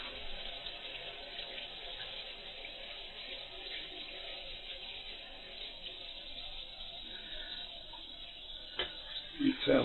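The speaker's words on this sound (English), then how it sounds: "Rinse out this bowl." Tap water runs steadily into a sink while a bowl is rinsed out, a continuous faint wash with a few clinks near the end.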